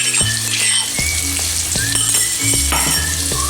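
Garlic paste and spices for a Rajasthani mung bean curry sizzle steadily in hot oil, a loud close frying hiss broken by repeated clinks and scrapes of a stirring spoon against the pan.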